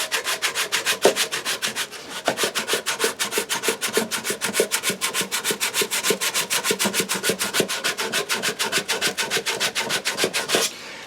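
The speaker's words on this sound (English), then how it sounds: "all I'm going to do is just start smoothing down these sides of the bowl" Rhythmic back-and-forth rasp of sandpaper smoothing the sides of a sycamore wooden bowl, steady strokes close up for the whole stretch, with no talking.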